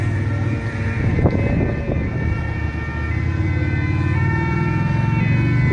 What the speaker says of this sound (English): Another two fire trucks and one ambulance, one fire truck heading down towards the scene.